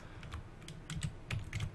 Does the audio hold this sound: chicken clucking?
no